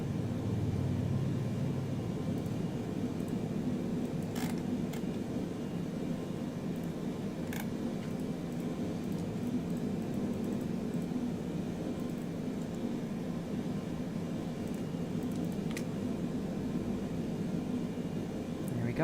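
An airliner departing in Microsoft Flight Simulator, a faint, distant low rumble of jet engines that holds steady throughout, with a few brief clicks and no voices.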